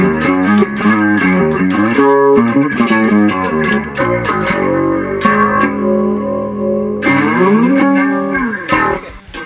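An electric bass guitar plays a busy melodic line with plucked, sustained notes and slides, loud and close with no talking.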